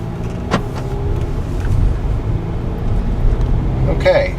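A 2012 Volkswagen Passat TDI on a test drive, its diesel engine and road noise a steady loud rumble inside the cabin, with a few clicks and a brief electronic chime near the end.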